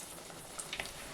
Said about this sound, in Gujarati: નાસ્તાને આપણે મીડિયમ ફ્લેમ પર તળશું જેથી કરી નાસ્તો આપણો એકદમ ક્રિસ્પી બને.